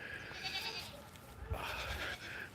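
Goats bleat in a barnyard on a winter morning, a few wavering calls that come faintly from a little way off over a steady low background hum.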